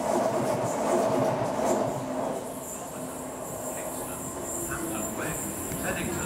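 A Gatwick Express Class 387 electric train runs through Clapham Junction station, a moderate rumble with some wheel squeal and hiss, passing at middle distance.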